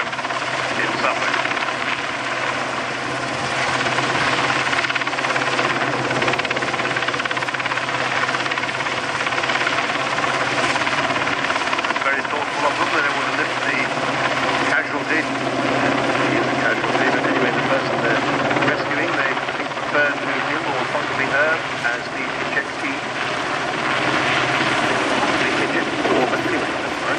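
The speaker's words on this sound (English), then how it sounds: "The helicopter comes down so as to minimise the amount of time that person has to spend on the end of a wire." An RAF Sea King helicopter hovering during an air show rescue display at RAF Cosford, its rotor and turbine roar loud and continuous, with a public-address commentator talking over it.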